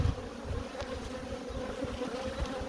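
A large honeybee colony buzzes in an open hive with two supers, a dense, steady hum that holds close and even throughout, with no voices.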